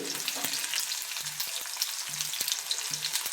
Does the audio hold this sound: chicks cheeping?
no